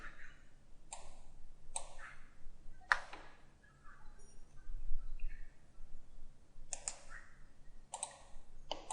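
Sharp computer mouse clicks in Inventor CAD software, a dozen or so crisp taps scattered in small pairs and clusters across a quiet background with no talking.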